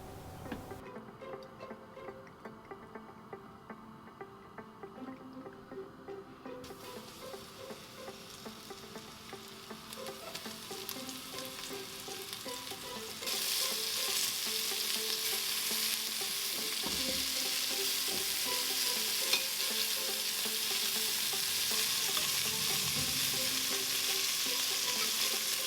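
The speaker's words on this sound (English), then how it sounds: "So I'll just give my pieces of lamb a coating of seasoned flour, and then I'll seal them off in the bottom of my pot in batches" Flour-coated lamb pieces searing in the bottom of a pot, a continuous close sizzle that grows louder and brighter partway through, with faint ticking and occasional stirring.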